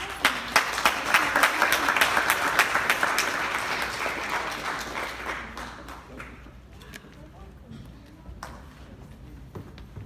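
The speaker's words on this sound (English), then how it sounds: "So please give them a round of applause." A crowd applauds loudly at first, the clapping gradually thinning out to scattered claps as it fades.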